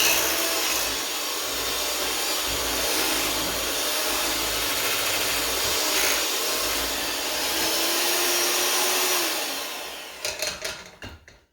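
Electric mixer beating Swedish nut cake batter, a steady loud motor whir running continuously for about ten seconds before stuttering and cutting off at the end.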